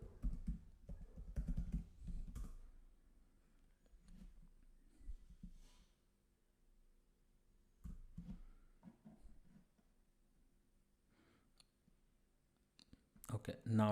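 A password being typed on a computer keyboard, with bursts of quick clicking keystrokes separated by pauses, fairly close and crisp, with a few louder clacks near the end.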